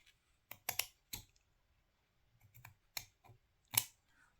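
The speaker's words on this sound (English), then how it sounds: "I'm going to cut this before I glue it" Scissors cut paper for a wrap-around folio craft project, giving a series of close, crisp snips in uneven bursts with short pauses between them.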